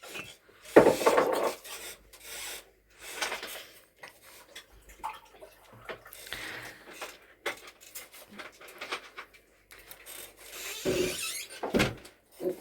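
Carrots being grated by hand for Korean-style carrot salad in a home kitchen, irregular rasping strokes in short bursts with pauses between, close and fairly loud, no talking.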